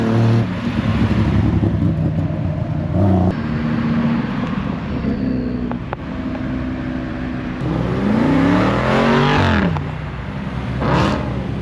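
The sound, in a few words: car revving loudly at a car meet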